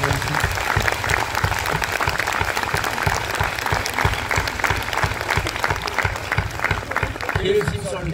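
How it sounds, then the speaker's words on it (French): A cinema audience at a film premiere in Montivilliers applauds, with sustained, dense clapping from many hands filling the room and voices faintly mixed in. "On peut applaudir aussi"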